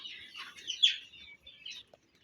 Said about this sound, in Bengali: দেখুন কেমন উড়াউড়ি করে কোয়েল পাখিগুলা